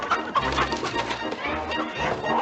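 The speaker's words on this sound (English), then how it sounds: "he was catching chickens" Chickens clucking close by, a steady busy cackling that fills the short moment with no talk over it.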